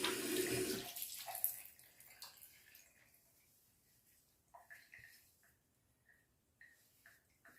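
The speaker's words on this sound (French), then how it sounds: "Donc, on va le rincer maintenant." Running tap water rinsing off a goat milk soap face mask, a steady splash at the start that thins into scattered drips and small splashes, fairly close and quiet.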